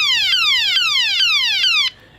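A Transformers G1 Shockwave toy in gun form blares a loud, electronic, repeating falling zap, about four sweeps in a row, close up, before cutting off abruptly into quiet.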